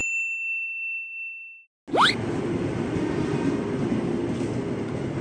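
A ding precedes a former Jogja JR 205 series KRL commuter train on the Bogor line at night, then a sudden rush of train noise with a rising whine, steady rumble and clatter close by.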